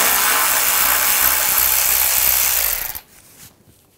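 A power tool spins an 8 millimeter socket to remove a bracket bolt on a 2006-2010 BMW 550i 4.8L V8, a loud steady whir for about three seconds that stops abruptly, followed by faint clinks.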